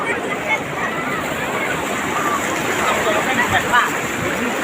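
Floodwater at Huai Sane in Thailand rushing in a loud, continuous roar with surf-like churning, steady throughout, with voices of people at the water's edge partly mixed in.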